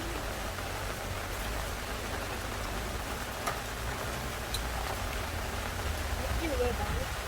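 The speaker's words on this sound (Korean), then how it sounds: "빗소리 좋아, 빗소리 좋아." Heavy rain pours steadily over a valley campsite during a summer downpour, a dense, even hiss with occasional faint drips and ticks standing out close by.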